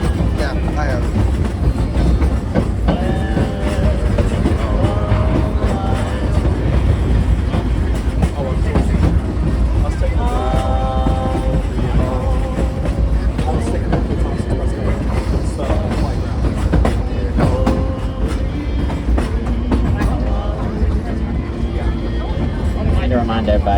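The Frisco sing-along steam train rolls steadily on its rails with a constant loud rumble and rhythmic clatter, while people talk and a voice makes announcements over the ride throughout.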